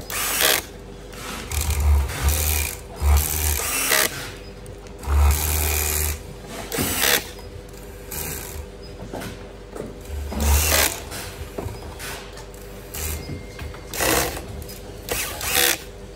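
A powered screwdriver drives screws back into the control box of a heat press machine after its overheat protector is replaced, heard as several short, close whirring bursts over a low, steady background hum.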